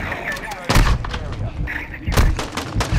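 Gunfire in Call of Duty: Modern Warfare II, with heavy booming shots near 0.7 and 2.2 seconds amid lighter scattered fire, loud and close under players' excited talk.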